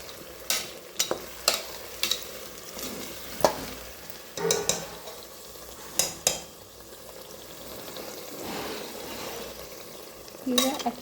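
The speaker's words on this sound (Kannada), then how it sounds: "ಇದು ಮಿಕ್ಸಿಗೆ ಹಾಕಿದ್ದು ಈಗ ಮಿಕ್ಸ್ ಮಾಡ್ತಾಯಿದ್ದೀನಿ." Mint paste mixture is stirred in a frying pan, a soft steady sizzle broken by repeated sharp scrapes and taps of a spoon against the pan.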